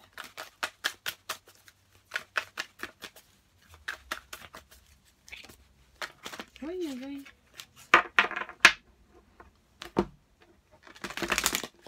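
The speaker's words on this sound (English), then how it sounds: "my shuffling isn't as good as it normally is" Tarot cards being shuffled by hand, several bursts of quick crisp riffling clicks separated by pauses, with a short stretch of voice in the middle.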